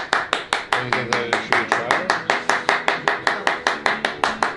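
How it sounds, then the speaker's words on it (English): A small group of people in an office claps in a quick, regular rhythm, close and loud, with sharp evenly spaced hand slaps continuing for several seconds. "Giving Big Cat a round of applause."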